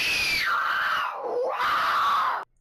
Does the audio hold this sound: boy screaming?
yes